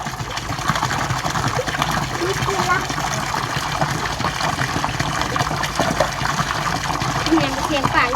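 Water pours steadily like a small waterfall, a continuous broad rushing and splashing with no break, while voices talk faintly beneath it.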